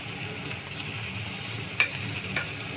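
Fish curry with tomato cooking in a pan, giving a steady soft sizzle and bubbling with a couple of faint clicks from stirring.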